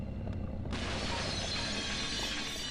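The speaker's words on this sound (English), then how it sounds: "Comes the sounds of dogs and then breaking glass." Glass shatters loudly in the video game Deadly Premonition, a sudden burst of breaking and scattering shards that stays dense and sustained for nearly two seconds, with no talking.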